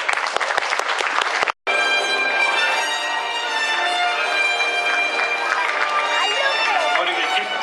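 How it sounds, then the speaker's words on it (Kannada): Steady, dense applause from an audience at a Kannada Rajyotsava cultural event in Dubai, continuous clapping after a brief cut, fairly loud and even, with no one speaking over it. "ದಯವಿಟ್ಟು ಚಪ್ಪಾಳೆಯೊಂದಿಗೆ"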